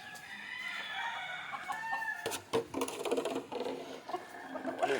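Country chickens, including black-feathered hens, cluck steadily in a close chorus as a rooster crows loudly partway through, with a busy patter of scratching and pecking around them in the morning yard.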